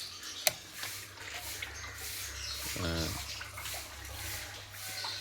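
Water from an aquarium filter pours down like a small waterfall, a steady close rushing splash with a brief squeaky chirp partway through.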